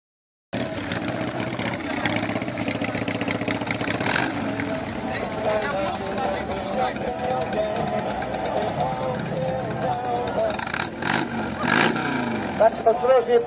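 A loud Harley-Davidson Fat Boy engine at a loudest-exhaust contest at Bike Week Łeba 2018 rumbles continuously up close, its pitch rising and falling with revs, while voices talk faintly underneath.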